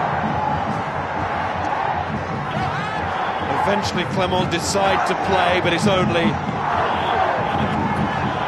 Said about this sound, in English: listen to the home crowd, they think it's done